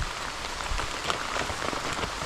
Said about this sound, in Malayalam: മഴ ശക്തമാകുന്നു.